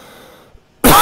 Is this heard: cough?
yes